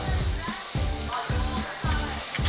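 Pork neck, pork belly, king oyster mushrooms and garlic sizzle on a grill at a samgyeopsal restaurant street in a Cheongju market, a dense continuous crackle with soft rhythmic scraping pulses underneath.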